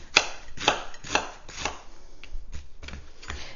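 A knife chops a whole onion on a board in a home kitchen, about eight crisp, evenly spaced cuts ringing out close and clear with no talking.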